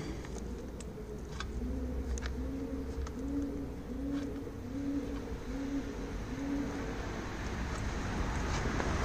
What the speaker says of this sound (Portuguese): As pombas tá cantando aqui em cima.